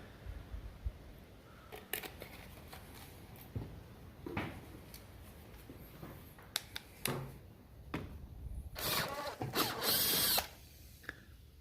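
A power drill running in short, uneven bursts, with clicks and handling noises between them and a longer, louder run near the end, while building a sawmill from an old chainsaw.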